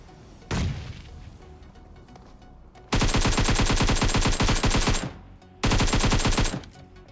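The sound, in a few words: AKM gunfire in the video game PUBG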